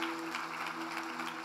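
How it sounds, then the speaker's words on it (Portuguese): Church congregation applauding during a Portuguese-language sermon, a steady wash of clapping across the moment, fairly even in loudness with a sustained tone running underneath. "Aplauda Jesus Cristo por isso"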